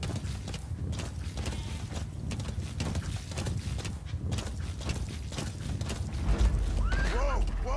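Horse hooves clip-clop along a road in Metal Gear Solid V: The Phantom Pain, beating steadily under game music and ambient noise, with spoken commentary over them.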